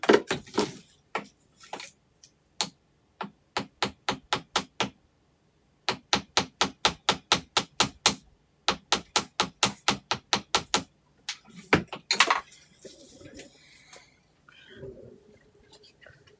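A wire earring hook is hammered on a desk in rapid rows of sharp, close metallic taps, grouped in bursts with short pauses, followed by some softer handling noises near the end.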